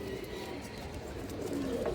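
Pigeons cooing close by, soft low murmuring calls running continuously over a steady background hum.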